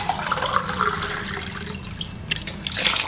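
Water pours steadily into a cooking pot for baby corn veg biryani, a continuous splashing stream heard up close for about three seconds with no speech.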